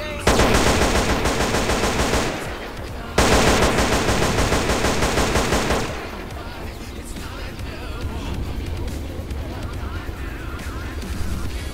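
Rapid automatic gunfire from a weapon in a modded GTA San Andreas zombie mission, loud dense bursts in two long volleys, followed by quieter mixed game action noise.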